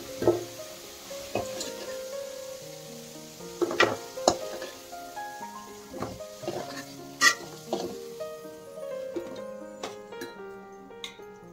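Onions and potatoes sizzling in a pan for a home-cooked Odisha curry, with steady frying hiss broken by frequent stirring scrapes and clinks of a metal spoon against the pan.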